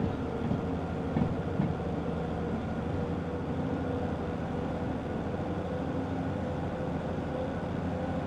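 Locomotives in Derail Valley hauling a train, three engines coupled together, giving a steady low rumble with faint rolling and clanking, moderately loud and continuous with no talk.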